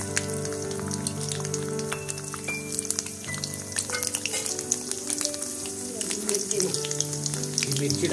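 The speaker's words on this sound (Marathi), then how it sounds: "तेल चांगल्या प्रकारे आता तापलेलं आहे, त्यामध्ये थोडीशी आता हळद टाकणार आणि लसूण टाकून घेतलेले आहे।" Turmeric and garlic crackling and popping in well-heated oil in a pan over a wood-fired clay stove, a dense, busy sizzle that continues close and loud throughout.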